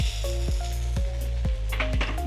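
Chilli, tomato and soy sauces with a little salt frying in a pan for chow mein, giving a steady close sizzle with soft periodic stirring knocks and no talk.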